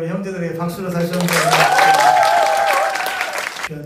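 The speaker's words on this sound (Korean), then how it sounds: "우리 귀한 형제들에게 박수로 다시 한번." A congregation gives a short burst of applause during a Sunday service at a Korean Full Gospel church, rising quickly, holding for a couple of seconds, then fading, with a voice heard just before it starts.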